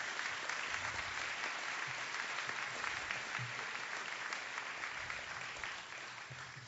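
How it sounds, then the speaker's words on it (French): A gala audience applauds the finalists for personality of the year with dense, continuous clapping, steady and even throughout before easing slightly near the end. "je pense encore une bonne main d'applaudissements pour l'ensemble des finalistes de la catégorie personnalité de l'année"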